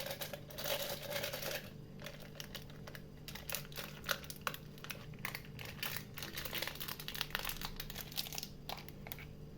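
A plastic bag of frozen fruit for a mango juice drink crinkles up close in quick, irregular rustles and crackles. The handling is faint and stops and starts throughout.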